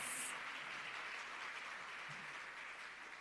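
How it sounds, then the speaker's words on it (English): A crowd at a company rebranding and quality recognition ceremony applauds, a steady, even wash of clapping that stays fairly faint and distant throughout. "I think that deserves a big, rousing round of applause"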